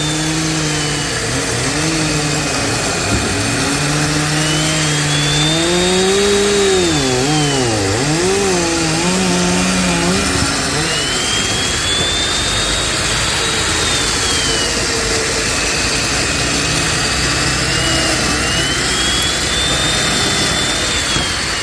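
A Makita 7104 chain mortiser cuts into timber, its loud, steady motor drone running continuously with rising and falling whine as the chain bites through the wood, joined briefly by a wavering tonal sound early on.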